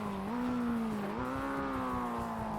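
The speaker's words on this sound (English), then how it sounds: "you can abuse the engine brake. I think you can hear it on the engine sound" A race car engine droning loudly and steadily in a Laguna Seca racing video game, with pitch shifts from downshifts and engine braking and no talking.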